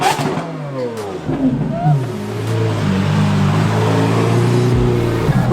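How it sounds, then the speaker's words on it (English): Koenigsegg hypercars rolling into a car week show, their engines revving loud and close with rising and falling tones over steady crowd and street noise. "Oh my gosh, the Koenigsegg's have arrived."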